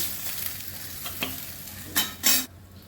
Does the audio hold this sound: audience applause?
no